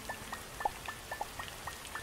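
Rain falling in the video game Starbound, heard as a soft, steady patter of separate drops landing at an even rhythm, faint and fairly close, with no voices over it.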